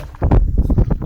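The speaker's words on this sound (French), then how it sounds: "Le vent est vraiment froid par contre" Loud, cold, gusty wind buffets the microphone in low, rumbling bursts, close and blustery, while fishing outdoors.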